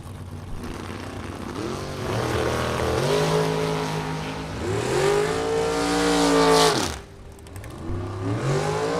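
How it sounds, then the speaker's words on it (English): Drag racing cars, including a Chevrolet S10 pickup truck, launch off the line at a Super Pro bracket race, engines loud and rising through repeated revving sweeps before cutting off sharply near the end. "Bausman on the right-hand side, the Chevrolet S10 pickup truck with a 630 dial-in"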